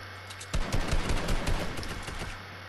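Rapid automatic gunfire in a video game on a snowy hill, a close, loud burst of overlapping shots lasting about two seconds, with no talk over it.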